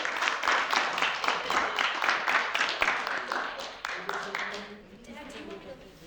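An audience claps for a speaker walking up to the stage, a lively rhythmic burst of hand clapping from a modest crowd that fades out after about five seconds, with voices speaking over it.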